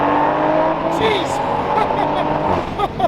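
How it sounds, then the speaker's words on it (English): A turbocharged Toyota Supra accelerates hard, its engine note droning and rising from inside the car, with tire and road noise and a voice exclaiming over it. "When that turbo kicks in, the whole car just takes off."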